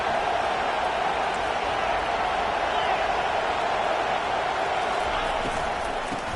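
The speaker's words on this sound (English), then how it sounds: "It is getting loud as this crowd tries to help its defense." Steady roar of a big stadium crowd at a Texas vs Michigan college football game, a dense, constant wash of noise with no letup. A commentator talks over it.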